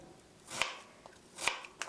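A knife cuts a pear on a cutting board for fried rice, giving a few soft, close chopping taps spaced about a second apart in a quiet kitchen.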